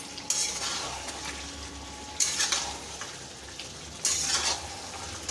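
Whole garlic cloves and potatoes frying in a pan, a steady low sizzle punctuated by three sharp bursts of stirring and utensil scraping against the pan, close by with no talk.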